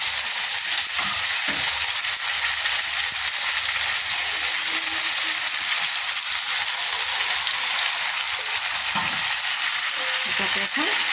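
Onion, garlic, ginger, chili and turmeric frying together in a pan for an egg curry: a loud, dense, unbroken sizzle with occasional stirring knocks.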